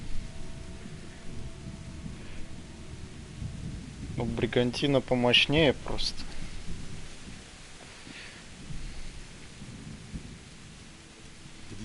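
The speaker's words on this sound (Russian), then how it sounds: "Да, везде дождь." Steady rain falls with low thunder rumbling through a medieval setting in the video game Kingdom Come, a soft continuous wash that carries on while two people briefly talk in the middle.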